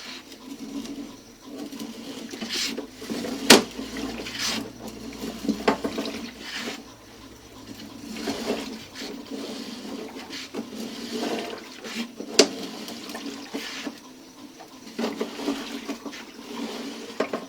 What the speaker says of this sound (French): une chasse a été tirée au niveau du deuxième étage